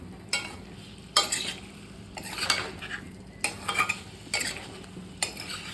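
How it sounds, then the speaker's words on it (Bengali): Fried jackfruit and potato get stirred into masala in a pan, with a spatula scraping and knocking the pan in repeated bursts over a quiet, steady sizzle, fairly soft and close, with no talking. "এই যে এখানে এঁচোড় আর আলুটা ভেজে রেখেছিলাম সেটা দিয়ে দেব। আবারও ভালো করে কষিয়ে নেব।"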